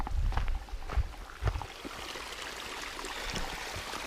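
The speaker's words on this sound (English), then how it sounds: "Nice little stream coming down through here." Small stream flowing down beside the Bright Angel Trail in the Grand Canyon, a steady close wash of water with a few louder splashes and low gurgles near the start.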